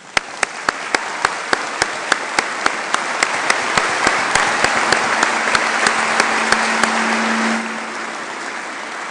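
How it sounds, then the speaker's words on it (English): Audience applauding at a university honorary doctorate ceremony, a sustained, even wash of many hands clapping that swells and then stops abruptly, with sharp regular ticks running through it. "I think that probably deserves a round of applause."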